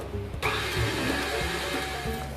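An electric mixer whirring into life and running steadily through cake batter for Oreo cake, a close, even motor hum with the beaters churning the wet mixture.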